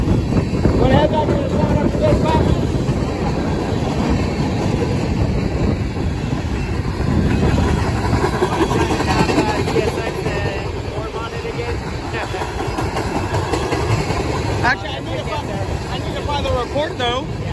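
A Conrail freight train rolls past loudly and steadily, wheels clattering on the rails with rumbling cars and occasional metallic squeals throughout.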